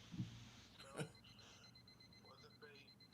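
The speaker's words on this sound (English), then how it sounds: "We're just getting a beeping sound in the background." A thin, steady electronic beeping tone runs faintly in the background while people talk over it.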